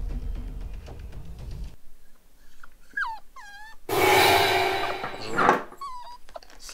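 A puppy whimpers and whines in high, wavering cries, in short repeated bursts with pauses, over a noisy background with rustling and a loud stretch of handling noise in the middle.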